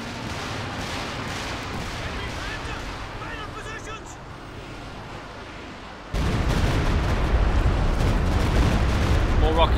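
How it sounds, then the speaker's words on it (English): Rocket strikes and artillery explosions from a Company of Heroes 2 match rumble as dense, continuous booming that swells louder partway through, with a commentator talking over the barrage. "More rocket strikes, now there on the Jackson."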